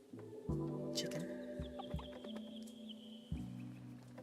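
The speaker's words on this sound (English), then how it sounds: "Chicken." Chicken clucking in the video game Mutazione: a few short fowl clucks and calls over a steady ambient game soundscape, moderately loud with no talking.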